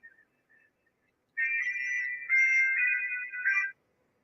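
A phone rings in a bright electronic tone, with a couple of faint short chirps first and then a sustained warbling ring lasting over two seconds before cutting off.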